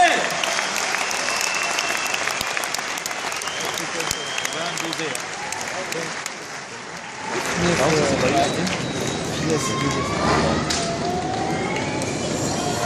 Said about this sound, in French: ça mérite un petit peu plus d'applaudissements, s'il vous plaît!